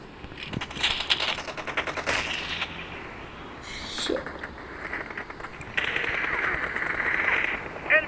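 Rapid automatic rifle fire from an M4 in a shooting video game, bursts of quick repeated shots rattling through the stretch at moderate loudness with some other game noise between volleys.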